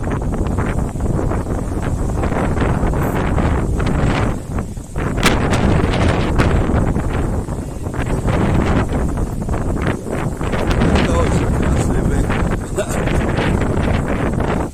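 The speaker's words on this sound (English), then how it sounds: "It's a little bit windy up here." Strong wind buffets the microphone continuously on a high spot in Benidorm, roaring and rumbling in gusts for the whole stretch, with no clear voices.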